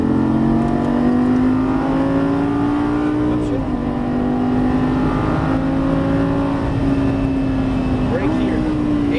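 Lamborghini Gallardo Superleggera LP570-4 accelerating on a track in Las Vegas, a loud steady engine drone climbing in pitch, with two brief dips as gears shift, heard from inside the car under an instructor's talk.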